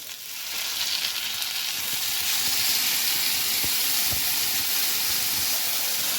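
Potatoes cook in bhuna gravy over a high flame, giving a continuous loud hissing sizzle with faint scattered clicks of a utensil in the pan.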